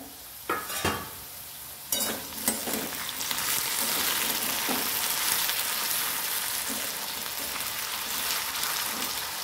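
Diced potatoes sautéing in an open pan for a fasting khichdi, a steady broadband sizzle with a few clinks of stirring near the start, close and continuous with no talk.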